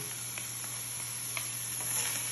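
Onion for kofta fries in an aluminum pan with a steady, moderate sizzle and a few faint stirring scrapes, heard up close without any talking.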